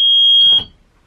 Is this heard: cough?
no